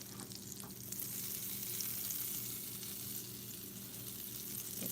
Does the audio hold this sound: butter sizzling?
yes